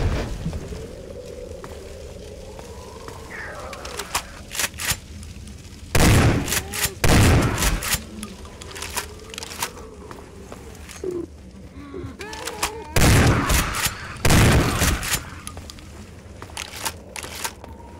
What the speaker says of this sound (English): Let's use some exploding barrels.